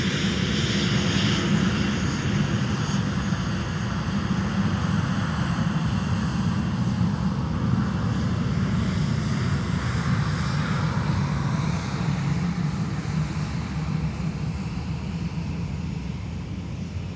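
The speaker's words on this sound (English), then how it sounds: "Now arriving from Louisville, Kentucky, it's our UPS MD-11F." A UPS MD-11F cargo jet arrives at Minneapolis airport, its engines giving a loud, continuous roar with a broad low rumble that holds steady for the whole stretch, with no talk.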